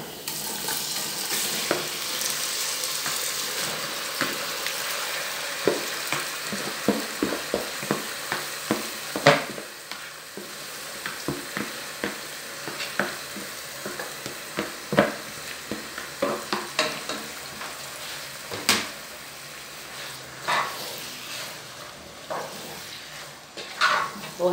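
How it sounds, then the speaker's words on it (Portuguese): Beef sautéing in a pan for a beef-and-vegetable dish, with a steady sizzle broken by frequent sharp scrapes and clinks of stirring, loud and close, with no talk. "Vou refogar aqui essa carne"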